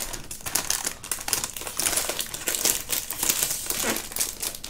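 A plastic bag crinkles and rustles up close while a diamond painting kit is unpacked, a busy, continuous crackling that rises and falls in quick handfuls.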